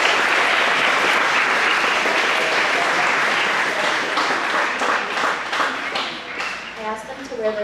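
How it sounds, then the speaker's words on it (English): An audience at a senior presentation applauds, a loud, dense wash of clapping that thins out over the last few seconds as a voice begins speaking. "If you could give them a round of applause, that would be great."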